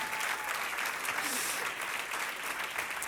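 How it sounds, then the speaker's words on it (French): An audience at a talk breaks into sustained, dense applause, an even roar of many hands clapping at close range with a faint murmur of voices mixed in. "On peut les applaudir."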